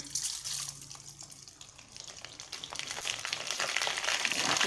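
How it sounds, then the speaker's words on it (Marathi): Sabudana tapioca pearls fry in hot oil with a dense, rushing hiss like running water. It dips slightly early on, then builds steadily louder to the end. "आता आपण साबुदाणा तळून बघूया"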